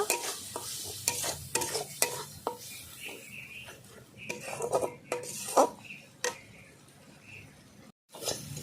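Spices with turmeric powder being sautéed in a pan for a Bengali chicken curry with potatoes, a utensil repeatedly scraping and clinking against the pan over a soft sizzle, close and uneven in rhythm.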